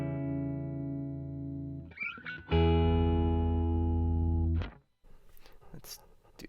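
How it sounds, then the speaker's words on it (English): Chase Bliss Mood MkII pedal in slip mode with stereo spread on, giving a loud, sustained harmonic tone that breaks briefly into warbling glitches, swells again, then cuts off into scattered sputtering fragments. "let's hear what this sounds like with the spread on"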